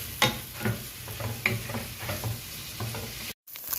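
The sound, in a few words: sautéing ground meat in a pan for spaghetti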